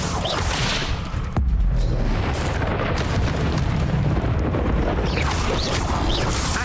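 A Hogwarts Legacy Incendio fire spell blast: a sudden booming burst followed by a sustained roaring, crackling rush of flame that stays loud throughout, with faint whooshes over it.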